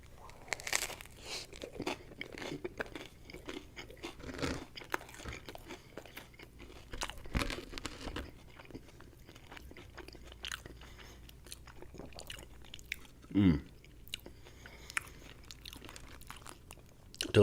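Close, crisp bites and crunchy chewing of a buffalo chicken pizza with buffalo sauce and ranch, irregular crackles and munches repeating over several seconds with one louder crunch near the end, no talking.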